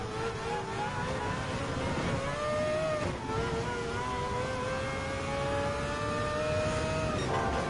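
A Group C Sauber Mercedes C9 race car at Le Mans in Gran Turismo 7 revs hard, its engine note climbing steadily through the gears with a brief dip at a shift, loud and continuous.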